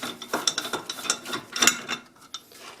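A wrench loosens and spins off the tie rod lock nut on a 2003 Acura TL, giving a string of close metallic ratcheting clicks and scrapes in an uneven rhythm.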